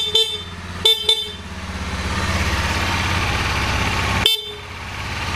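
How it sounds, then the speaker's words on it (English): A stock horn on a 2015 Honda CRF250L motorcycle gives short honks, a quick double blast then a single one a few seconds later, over a steady idling engine rumble. "stock horn."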